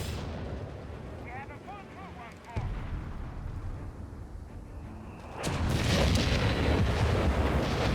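An artillery volley in Company of Heroes 3 lands as a sudden heavy boom, followed by a sustained, louder roar of blasts and rumbling fire, with a voice talking faintly under the battle noise early on.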